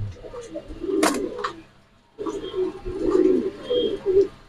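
Fancy pigeons, including an Iceber Jamasini of Mundian type, coo softly at close range in a loft, with repeated throaty rolling calls and a sharp flutter or clatter near the start.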